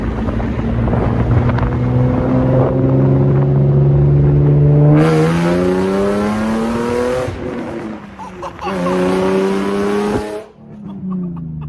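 A Nissan 350Z roadster with its V6 running a full straight-pipe exhaust accelerates hard, loud and close, its raw rising drone climbing through several gears with brief dips at each shift, then easing off at the end.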